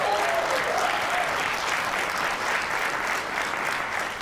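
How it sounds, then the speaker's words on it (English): An audience at a dance theater's 50th-anniversary concert claps steadily and warmly, sustained applause filling the space at an even level throughout. "Can we give that some applause?"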